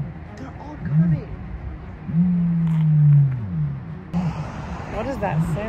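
An ostrich calling at a Danish village enclosure, giving low, humming booms, the longest and loudest near the middle, rising and falling against background noise and distant voices.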